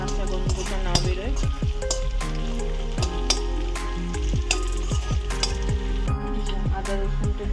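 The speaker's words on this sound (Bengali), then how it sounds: "দেখুন আমি আদা রসুনটা একটু ভালো করে ভেজে দিচ্ছি, যাতে রসুনের কাঁচা গন্ধটা না বেরোয়।" Ginger and garlic frying in oil in a pan, a loud steady sizzle with frequent sharp clinks and scrapes of a spoon stirring against the metal throughout.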